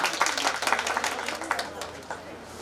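A small group at an içli köfte cooking contest in Kozan, Turkey, claps briefly, the applause scattered and fading within a couple of seconds, with talking mixed in.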